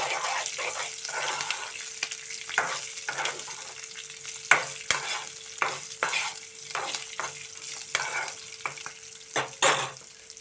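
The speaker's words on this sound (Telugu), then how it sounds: "మెంతులు జీలకర్ర వేగేటప్పుడే ఈ పచ్చిమిర్చి ఇలా తుంపుకొని మనం సగానికి కట్ చేసుకొని వేసుకోవాలండి" Green chillies fry in hot oil with fenugreek and cumin seeds for a green chilli pickle, giving a steady sizzle broken by repeated scraping stirs of a spoon in the pan, close and moderately loud with no talking.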